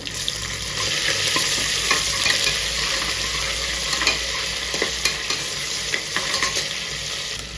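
Garlic paste sizzles and fries steadily in a pan while a spoon stirs it, with frequent scraping clicks over a continuous crackling hiss, close and fairly loud, with no one talking.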